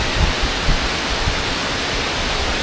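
Water cascading at Hinulugang Taktak waterfall in Antipolo, a steady broadband roar that fills the scene continuously with low rumbling pulses underneath.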